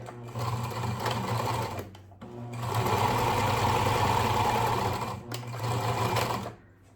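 A domestic sewing machine runs in three steady whirring bursts with short pauses between them, stitching close along the edge of scrunchie fabric, nearby and loud.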